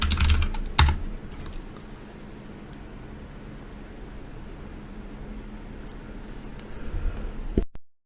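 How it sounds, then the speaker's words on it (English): Keys clack on a computer keyboard as a command is typed in a terminal, with a loud burst of strokes at the start, quieter soft tapping over steady background hiss, and a final keypress before it cuts off. "So the next command we'll type is make."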